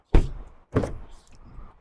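Rear door of a 2021 Honda City 1.0V sedan being opened, two firm latch clunks in quick succession followed by a faint settling rattle, close and alone.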